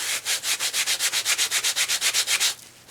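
Steady back-and-forth rubbing as sand is scrubbed off the edge of an acrylic pour painting, about a dozen even, rhythmic gritty strokes close up that stop near the end, with no voices.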